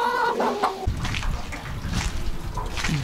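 A rooster gives a short crow at the very start, followed by the patter of dripping water outdoors, with no speech.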